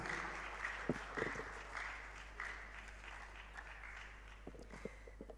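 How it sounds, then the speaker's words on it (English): At a digital innovation week closing ceremony in Ghana, a round of applause for a presenter sounds fairly faint and distant, with scattered sharper claps through a low steady hum. "A bigger round of applause, ladies and gentlemen, for Ama Lartey"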